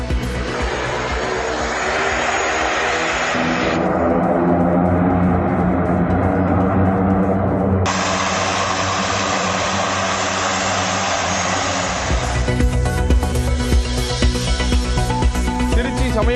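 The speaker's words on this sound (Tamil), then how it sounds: "உத்தராகண்டில் சோதித்து பார்க்கப்பட்ட நீர் விமானம்." A seaplane drones loudly as it flies during a test in Uttarakhand, where it landed on a river; a steady propeller and engine roar carries on for the whole stretch with a few abrupt shifts in tone.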